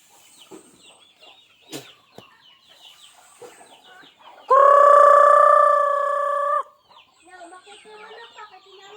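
Chickens cluck and chatter softly in the background, with one long, loud sustained call cutting through the middle.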